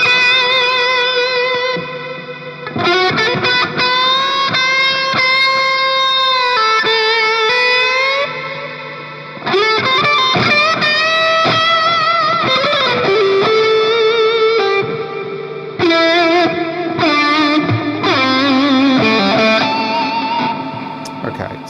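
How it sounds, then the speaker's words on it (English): Electric guitar chords and melodic lines through a Hughes & Kettner tube amp and Flashback delay ring out with distortion and echoing delay repeats, played in phrases with brief pauses between them. "So that's a Hughes and Kettner amp through, you know, the flashback delay, Hall of Fame, and the Andy Timmons pedal."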